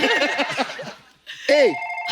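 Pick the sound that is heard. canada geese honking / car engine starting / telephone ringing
telephone ringing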